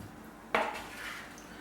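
Ceramic pie dishes clink and clatter once as vegetables go in for a vegetable pie with mustard mash topping, a single fairly close knock followed by quieter kitchen handling, with no voices.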